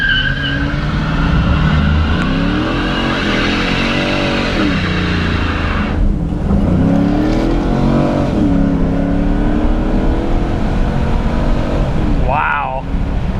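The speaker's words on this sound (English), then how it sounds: "Burnout completed." A high-performance police car is brake-torqued into a burnout, its engine revving loudly and continuously with rising and falling pitch sweeps and tire noise throughout, close and dominant.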